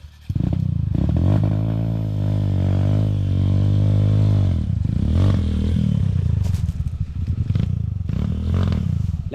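Dirt bike engine in a racing video game, loud and close, a steady rev that drops and surges again with clattering bursts, no talking over it.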